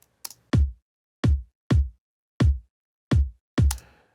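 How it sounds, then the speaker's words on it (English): Bass drum trigger sample in Pro Tools, six deep punchy kicks with a sharp attack and short decay, spaced at a steady pace with clean silence between hits. "I'm using trigger, and this is what the sample sounds like."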